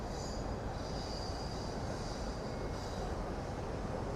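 Train running along a line in Tokyo, a continuous even rumble with faint high wheel squeal, steady and moderately distant with no talking.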